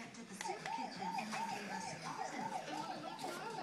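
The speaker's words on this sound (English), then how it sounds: "Can you do the siren? Here, look." A toy trike's electronic siren wails in a fast, repeating up-and-down pattern, steady and fairly close, with faint background sounds.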